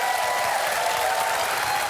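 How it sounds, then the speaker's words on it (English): Steady round of applause from a studio audience during a chat show, a dense, continuous wash of clapping hands at even loudness throughout, with no talk over it. "So, big round of applause"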